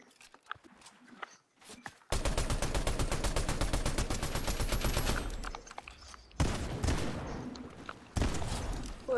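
Sustained automatic gunfire in Fortnite, a dense rapid stream of shots lasting several seconds, then a brief pause before more bursts, loud and close with faint chatter underneath.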